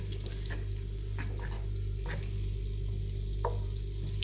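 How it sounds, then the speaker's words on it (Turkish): Food frying in butter while being stirred in a pan for stuffed meat dolma, a steady close sizzle with scattered soft scrapes of the spoon and no talking. "gördüğünüz gibi hep karıştırıyorum"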